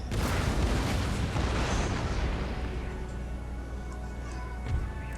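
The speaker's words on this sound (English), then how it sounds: "So let's give them a volley of round shot, round ball." A volley of cannon firing round shot in a Spanish campaign battle video game booms as one heavy, rumbling blast that rolls on and slowly fades, with a faint thud near the end.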